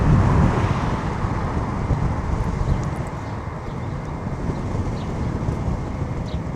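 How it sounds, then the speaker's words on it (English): Strong headwind buffets the microphone while riding, a loud, rough, continuous roar that is heaviest at the start and keeps gusting throughout. "Man, it's pretty windy here today"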